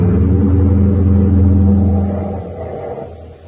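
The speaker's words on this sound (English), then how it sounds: "I'll follow as soon as I head the car right for that fuel tank." Car engine rumbling and revving in an old-time radio drama, a deep steady growl that builds then fades away toward the end, with no talk over it.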